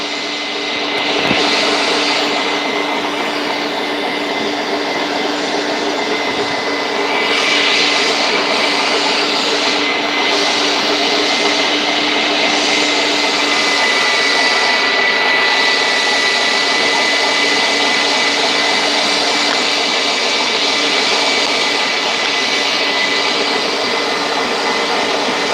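Electric meat grinder with a small auger and a 3/16 plate running a second grind of bratwurst meat, a steady loud motor whine with sustained tonal hum, continuous and alone for the whole stretch.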